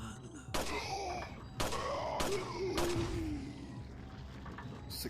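Several loud, sharp pistol gunshots in Resident Evil 4 VR, fired in an irregular sequence with ringing tails, while a moaning enemy voice wails underneath.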